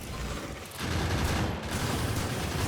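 Turret gunfire in a wave defense video game, shooting at a rock: a dense, continuous rattle of rapid shots with a harsh, noisy texture that gets slightly louder partway through.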